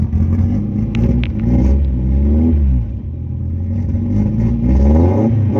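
A car engine, fitted with a Typer One RPM tachometer, revs loudly in repeated surges, rising and falling close by with a steady rumbling idle between pushes.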